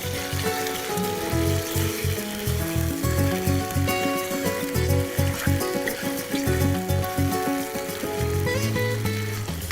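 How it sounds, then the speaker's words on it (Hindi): Chicken and spices fry in a pan, giving a steady, dense sizzle and crackle that holds evenly throughout, with a faint tonal layer behind it. "मसाले और चिकन को अच्छी तरह मिलाएं। थोड़ी देर इसी तरह भूनें।"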